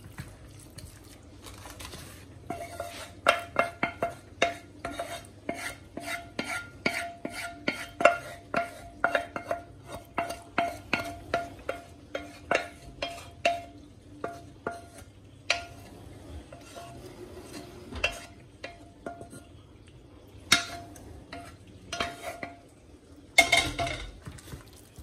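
Quiche filling of minced meat stirred and mixed in a bowl, with a utensil scraping and clinking in a steady, rapid rhythm of close, sharp taps for most of the stretch, pausing briefly near the end.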